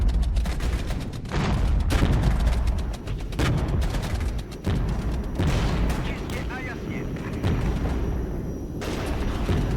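Rocket and artillery fire in the real-time strategy game Regiments, repeated heavy booms and rumbling salvos layered over continuous battle noise, loud and sustained, with someone talking over it.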